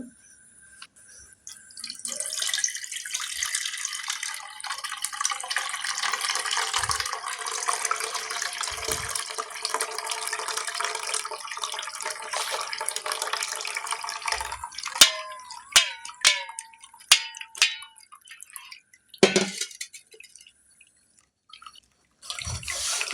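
Strained curd rice is poured into a bowl, giving a steady wet splashing pour that runs for a long stretch, then breaks into scattered drips and small splashes near the end.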